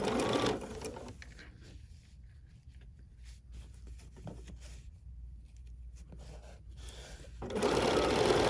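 A sewing machine fitted with a couching foot stitches entredeux, its hum loud at the start, dropping to a quieter steady run through the middle, then loud again at the end.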